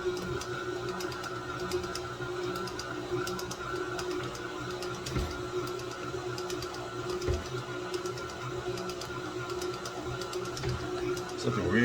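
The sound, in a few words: KitchenAid stand mixer kneading pizza dough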